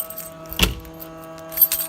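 A few keys, including a double-sided one, jangle as they are pulled from a tote compartment, with a short metallic rattle near the start of the pull and another brief jingle moments later, close and fairly quiet.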